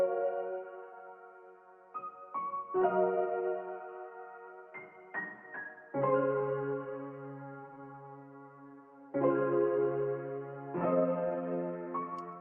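Melodic piano loop pitched up an octave, dulled by a decimator cutting the high end, with vintage-style lo-fi coloring and chorus; sustained chords and short notes play alone in a steady, mid-loud pattern.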